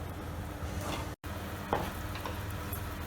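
A curry of snakehead fish simmers in a pan with a continuous, close bubbling hiss. It cuts out briefly near the middle, and a faint knock follows.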